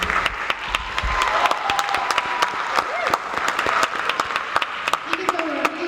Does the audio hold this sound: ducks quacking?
no